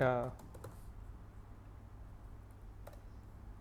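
Code being typed on a computer keyboard, a short burst of voice at the start giving way to soft, steady key clicks that continue quietly through the rest.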